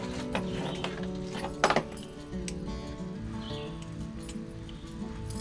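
A rotary carving tool fitted with a fine cutter bit works wood on a rainbow trout carving, making a steady whining motor drone with a brief louder grinding burst partway through.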